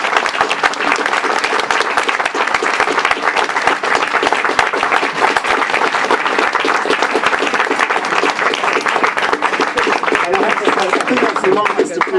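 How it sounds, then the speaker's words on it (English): A bookshop audience at a philosophy talk claps in a long, dense, steady round of applause that holds at an even level throughout. "The longest applause of any speakers we've had here"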